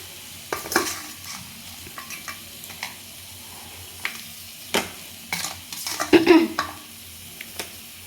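Crab pieces drop one by one into hot, sizzling masala in a pan, making a series of sharp splatters and clinks over steady frying crackle, with a busier cluster of hisses near the end.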